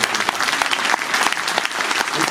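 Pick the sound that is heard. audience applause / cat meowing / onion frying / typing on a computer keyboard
audience applause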